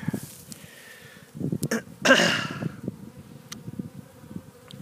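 Bees buzz outdoors in winter in a low, steady drone, with a few louder bursts of movement and handling noise partway through.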